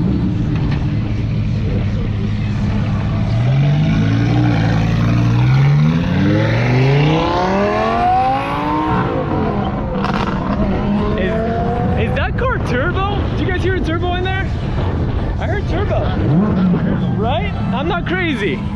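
A Lamborghini Gallardo accelerates away at a Miami car meet, its engine note rising through revving sweeps over crowd noise, with people talking close by throughout.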